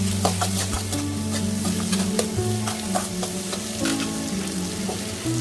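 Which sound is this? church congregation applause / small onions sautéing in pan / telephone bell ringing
small onions sautéing in pan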